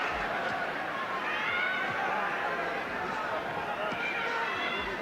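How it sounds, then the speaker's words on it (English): The crowd at a 1986 boxing match, Lloyd Honeyghan against Donald Curries, keeps up a steady roar with swelling oohs and ahs as Honeyghan lays into the champion, while a commentator talks over it the whole time. "there's lots of oohs and ahs there from the American crowd as Honeyghan lays into the champion"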